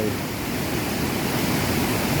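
Steady broadband rush of water pouring like a waterfall during heavy rain, loud and close, continuous with no break and no talk.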